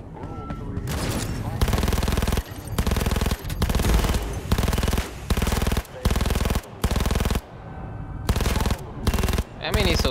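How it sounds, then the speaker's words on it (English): Submachine gun fire in Cyberpunk 2077 comes in loud, close bursts of rapid shots, roughly eight sustained volleys separated by brief pauses. "Let's see the SMG."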